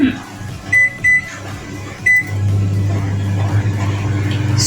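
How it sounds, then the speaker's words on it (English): A microwave oven set to its highest power gives a few short beeps, then starts a loud, steady, low hum that runs on continuously to the end. "put this up at the highest microwave power for 2 minutes"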